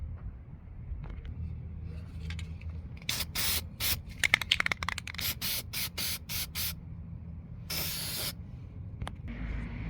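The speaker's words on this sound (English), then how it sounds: "I'm gonna spray paint it now." Bursts of aerosol spray paint hissing onto a metal engine part, some short rapid pulses and a few longer sprays, close by over a faint background hum.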